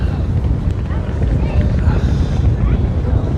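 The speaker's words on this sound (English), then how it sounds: "I'm on a boat. It's very windy at the front." Strong wind buffets the microphone at the front of a boat, producing a steady, loud roaring rumble that continues without a break for the whole stretch.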